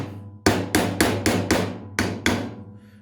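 Hammer blows driving a part into a car generator (alternator) with a drift attachment, seven sharp metallic strikes in a fairly even rhythm, close and loud with short ringing decays.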